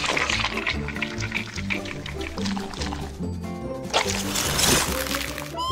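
Green rind-layer liquid for a toy watermelon popsicle pours steadily into a mold, a continuous close liquid flow with light dripping and a busy background underneath.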